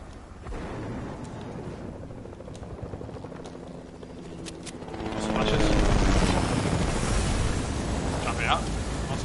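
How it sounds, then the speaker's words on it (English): Helicopter in the video game Fortnite, its rotor and engine roar swelling and growing much louder partway through, then holding steady as players talk over it. "I'm gonna grab this chopper."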